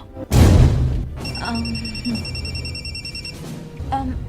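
A telephone rings with a repeated electronic trill for a few seconds, following a loud thump at the start, with faint room noise beneath.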